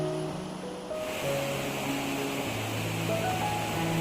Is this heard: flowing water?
yes